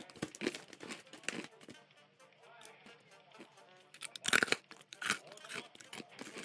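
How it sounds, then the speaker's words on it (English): Crunchy sesame-flavoured potato sticks being chewed up close, a run of irregular crisp crunches with some crinkling, fairly quiet, with louder bites near the end. "You hear that crunch? These are very crunchy."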